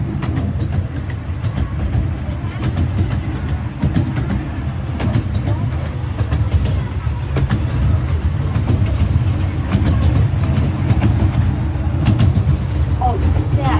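A zoo train rolls along its track at close range, a steady rumbling run with faint rhythmic clicks of the wheels, while a family talks over it.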